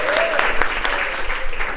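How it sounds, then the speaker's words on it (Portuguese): An audience at a university round-table academic panel gives a short burst of close, dense applause, with a voice briefly audible over the clapping. "Aplausos, gente!"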